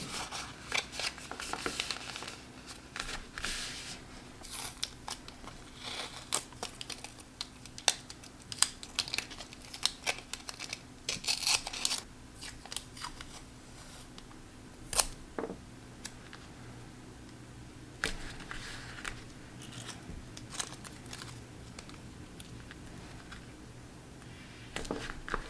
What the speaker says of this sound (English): Now I'm just folding up the letter to make sure it fits in the envelope, and I'm just adding a couple strips of washi tape